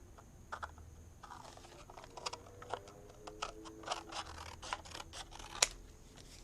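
Scissors snip through fabric in a run of quick, close clicks and crisp cuts, irregular in rhythm, heard alone without talking.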